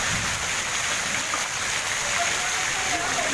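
Heavy rain pours steadily over a flooded residential street, a dense, even hiss that fills the whole moment at close range without letup, with no distinct individual drops standing out.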